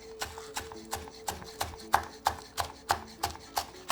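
A knife chops green onions on a cutting board in about a dozen evenly spaced, crisp knocks, each roughly a third of a second apart, quiet and close with no speech.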